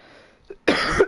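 A race commentator coughs during a racing championship finale broadcast: a faint murmur, a short throat sound, then a loud, harsh burst of coughing that fills the rest of the moment.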